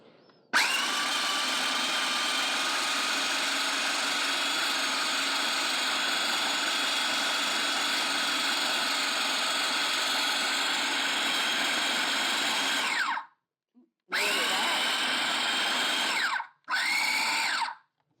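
A kitchen machine blends dates into a paste, a steady loud motor whine running for about thirteen seconds, then switching off and restarting in two short bursts.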